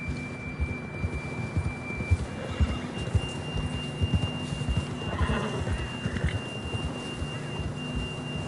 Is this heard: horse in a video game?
yes